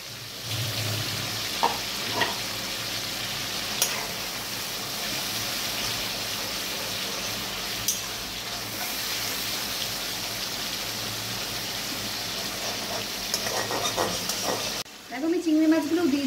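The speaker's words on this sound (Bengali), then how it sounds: "দেখো আমি চিংড়ি মাছগুলো দিয়ে দিয়েছি, দিয়ে আবার একটু এক মিনিট মতো কষাবো।" Prawns sautéing in a pan give a steady, close sizzle with crackles and a few stirring clicks, the frying running unbroken for about fifteen seconds before cutting off abruptly near the end.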